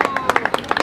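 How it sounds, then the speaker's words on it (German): A short burst of audience clapping at a film workshop event in Luxembourg, a quick run of sharp, uneven hand claps with voices mixed in. "Applaus für Harry!"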